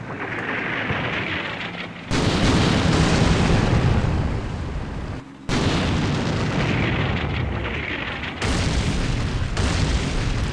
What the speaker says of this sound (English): Their artillery's working, that's for sure.